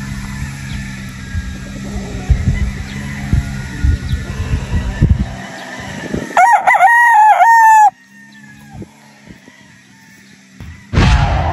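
Golden boy gamefowl roosters crow on a farm, one loud, close, drawn-out crow partway through and another beginning at the very end, with quieter farmyard clucking and shuffling beforehand.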